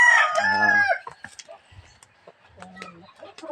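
Farmyard chickens fed at midday: a rooster crows loudly and close at the start, followed by scattered clucks from hens and chicks, a few short calls returning later, with no talk.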